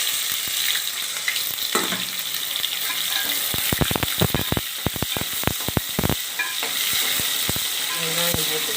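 Onions frying in oil for fish curry, a loud, dense, continuous sizzle close up, with a burst of quick crackles and spatter pops in the middle.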